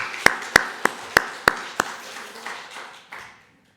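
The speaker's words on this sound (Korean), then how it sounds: "박수로 영광을 돌리십시다." Half a dozen sharp, evenly spaced claps sound in a church service, then fade into a soft ringing tail. The claps are sparse, like a few people clapping rather than full applause.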